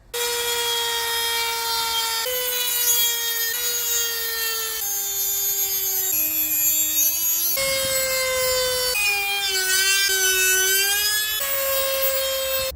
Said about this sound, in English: So I think I'm going to have to do this with a Dremel